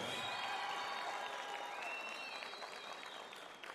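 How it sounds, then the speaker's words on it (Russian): Crowd applause and cheering fill the arena for Chechen MMA fighter Tamerlan Susurkaev, a steady loud roar of clapping with whistles, sustained throughout and fading slightly at the end. "Ваши аплодисменты, Тамерлан Сусуркаев"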